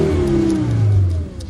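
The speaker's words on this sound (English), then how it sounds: "simultaneously turn the engine over to hear what's so special about the new" A Fiat Coupé sports car engine starts and revs up loudly and steadily, a deep throaty roar rising and holding before easing off at the end; no talking.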